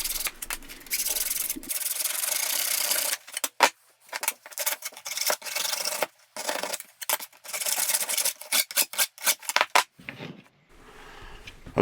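A metal file rasps over the steel edge of a bench scraper in a shop, with irregular bursts of scraping strokes separated by short pauses, close and without talk.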